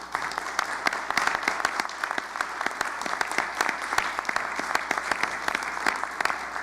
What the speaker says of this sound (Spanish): Creo que un aplauso viene en orden.